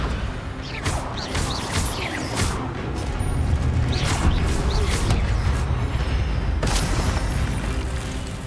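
Spell blasts from the Hogwarts Legacy video game, several booming bursts and crackling impacts layered over a dense rumbling background, with no talk heard.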